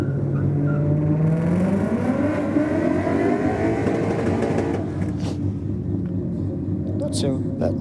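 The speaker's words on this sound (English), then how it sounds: "That Lexus sounds like it's an engine transplant." A car with a transplanted Lexus engine revs up with a rising whine, then settles into a loud rumbling idle at Sydney Dragway; a few faint voices in the background.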